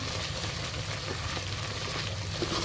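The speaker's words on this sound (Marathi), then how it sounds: "छान तेल सुटेपर्यंत भाजून घ्यायचं आपल्याला." Ginger-garlic paste fries in hot oil for a crab curry, a steady close sizzle with occasional stirring scrapes.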